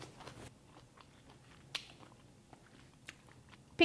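Close, crisp crunching bites and chewing of a bossam pork wrap with sweet and sour pickled cabbage, several sharp crunches spaced irregularly against quiet mouth sounds.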